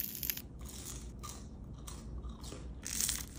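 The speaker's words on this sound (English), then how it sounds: "Just listen to the sound of this crunch." Crispy baked sweet potato fries give a series of close crunches and bites, dry crackling bursts with a louder crunch near the end.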